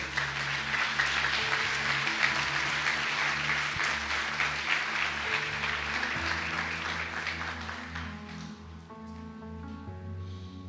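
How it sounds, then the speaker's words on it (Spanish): A large church congregation at a Sunday service claps in sustained applause that slowly fades, with a musical keyboard tone held underneath as it dies away. "Denle un aplauso a nuestro Rey, por favor"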